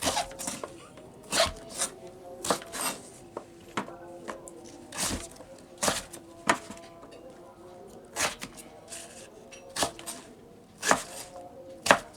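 Knife chopping a main ingredient into small pieces before boiling for an herbal remedy, a series of sharp, irregular chops on a board, fairly close, with a low voice talking in the background.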